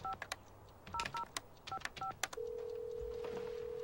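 DTMF keypad tones ring out one after another in an irregular rhythm as a phone number is dialed in the FMV adventure game Tender Loving Care, followed by a steady ringback-style tone that holds to the end, clear and close.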